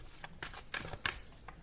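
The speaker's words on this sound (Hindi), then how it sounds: "मैं शफल कर रही हूँ" Tarot cards being shuffled by hand, soft papery riffles and crinkly slides in quick irregular bursts, faint and close with no talking.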